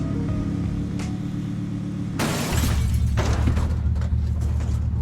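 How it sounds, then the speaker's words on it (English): A car crash in the zombie survival game Dead Matter: a low engine drone gives way to a loud, sudden burst of shattering glass and crumpling metal, followed by a heavy lingering rumble. "You hear the glass smashing, and you hear the metal crumpling."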